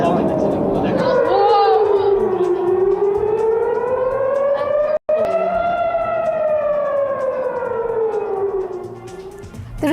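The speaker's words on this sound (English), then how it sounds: "Sirens were heard at Muwaffaq Salti Air Base in Jordan." Air raid sirens at Muwaffaq Salti Air Base in Jordan, a loud wailing tone that rises and falls slowly, with a speaking voice over it throughout.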